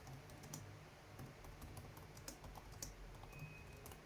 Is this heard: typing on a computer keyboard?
yes